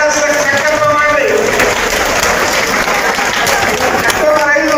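A large crowd at a Basava organization gathering in Dharwad breaks into loud, sustained applause, with a voice speaking over the clapping throughout.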